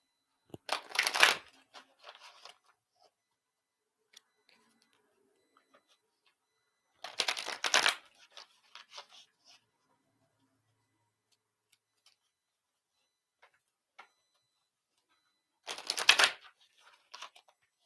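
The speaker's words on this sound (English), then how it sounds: "I'm going to throw a couple of cards for you." Tarot cards shuffled in three separate bursts of riffling, each about a second long, spaced several seconds apart with near silence and a few faint ticks between; close and moderately loud with no talking.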